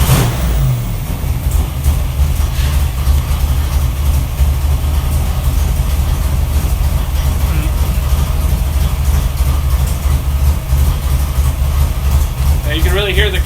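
A Ford 427W road race engine runs hard on a dyno, a loud sustained roar with a choppy cam-driven lope underneath, holding steady for the full stretch; a voice can be heard speaking under the engine noise.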